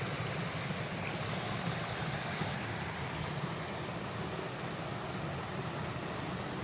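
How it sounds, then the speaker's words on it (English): A small waterfall in the South Mississippi woods, one of two falls side by side, gives a steady, even rush of falling water that stays constant and fairly distant throughout, with no voices. "I found this cool waterfall, and right beside it there's another one."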